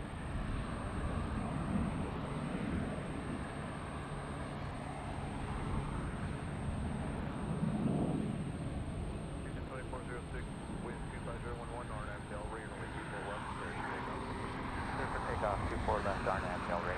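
An Allegiant airliner taking off at LAX airport, a broad rumbling roar that swells and holds at a distance under someone talking.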